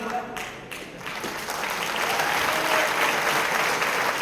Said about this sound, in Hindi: पीछे वाला भाइयों आप तालियां बजाना